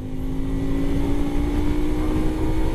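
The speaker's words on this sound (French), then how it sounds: "Allez, c'est parti pour mettre les moteurs à fond" A 125 cc motorcycle pulling hard at full throttle onto an expressway, the engine holding a loud, steady, rising drone from start to finish with constant wind noise.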